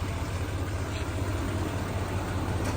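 An L5P Duramax diesel pickup truck idles with a steady low rumble that holds close and constant, alone without talk.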